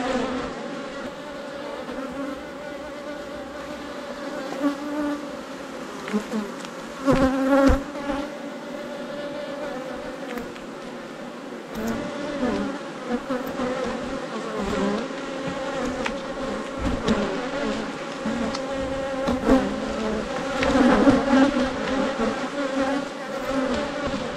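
Agitated honeybees at an apiary hive drone in a dense, steady buzz close by, with individual bees passing nearer now and then, through a late-season hive inspection.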